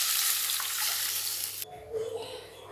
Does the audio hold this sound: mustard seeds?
yes